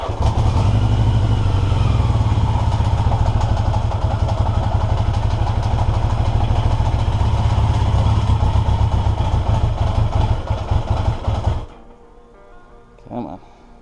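A 1982 Yamaha XJ650 motorcycle engine runs on choke at its first start, a loud, close, steady idle with a deep rumble and mechanical clatter. The engine cuts off abruptly near the end, leaving a faint brief sound.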